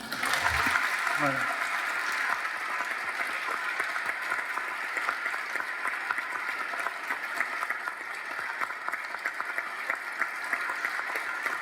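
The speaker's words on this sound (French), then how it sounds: "Chers membres de l'Assemblée, vous avez le droit d'applaudir tout ce beau monde." A seated assembly applauds inside a cathedral at a centenary celebration, a sustained wash of clapping throughout, with a brief spoken word at the start.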